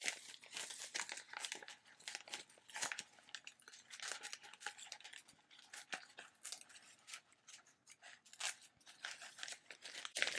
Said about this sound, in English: I'll just start on one corner and lift the backing from the clear transfer